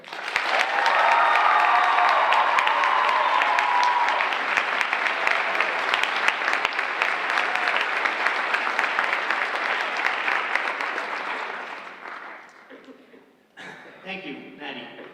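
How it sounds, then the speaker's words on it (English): An audience applauds a Hall of Fame inductee at an Iowa Thespian ceremony, a dense sustained round of clapping from a large crowd that fades after about twelve seconds, followed by a voice speaking. "Please join me in giving a warm round of applause to the newest Iowa Thespian Hall of Fame inductee"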